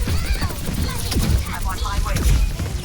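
Rapid gunfire in Overwatch aimed at an enemy tank, a dense, continuous stream of shots and mechanical clatter under game sound effects and busy in-game noise.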